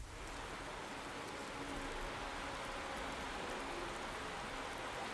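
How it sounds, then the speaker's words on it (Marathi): Heavy rain falls at Dadar railway station in Mumbai as a faint, even, broadband wash of steady downpour with no distinct voices. "मुंबईमध्ये पहाटेपासूनच पावसाने जोरदार हजेरी लावलेली आहे"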